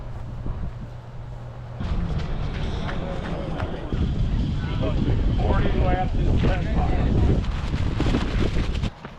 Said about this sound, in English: It is chilly and windy.